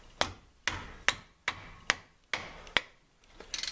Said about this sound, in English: you're going to take the hammer and just take that loose right there